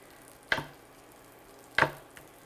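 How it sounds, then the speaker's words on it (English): Two sharp knife chops through avocado on a cutting board, about a second apart, each a short crisp thud with a brief tail, plus a faint tap after; quiet room tone between, no talking. "just sort of coarsely chop your avocado"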